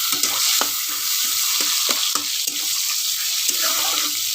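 Tomatoes fry in a pan for a Bengali egg posto dish, a steady loud sizzle with occasional stirring scrapes and clinks, no one talking.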